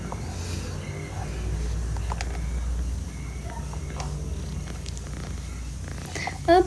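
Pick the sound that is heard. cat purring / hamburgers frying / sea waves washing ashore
cat purring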